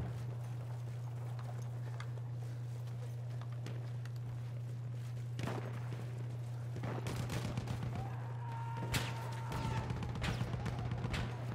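Shotguns fire in a Battlefield 1 team deathmatch as a run of sharp, irregular bangs and crackles, some closer and louder, over a steady low hum, with scattered clatter and footsteps in between.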